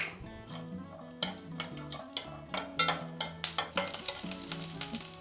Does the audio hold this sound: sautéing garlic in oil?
yes